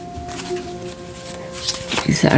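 Papery riffling and soft flicks of new, never-shuffled playing cards being shuffled close by, with a voice murmuring and a louder burst of handling near the end.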